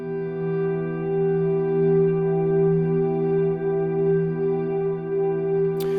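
A guitar volume swell runs through a Strymon BigSky pedal set to 100% wet with a very long reverb decay, giving a smooth sustained harmonic wash that hangs steadily and ends with a brief click.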